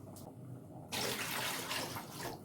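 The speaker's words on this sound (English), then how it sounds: "I'll just add some pot here and add my water, not too much water." Water pours from a container into a cooking pot on a stove while preparing okro soup, a steady splashing rush that starts abruptly and continues close, with no talk over it.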